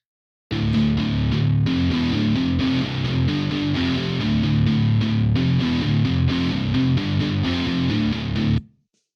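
Heavily distorted metal guitar from the Shreddage 3 Jupiter virtual instrument, Entombed preset, chugs through a dense palm-muted riff for about eight seconds, loud and full before stopping abruptly.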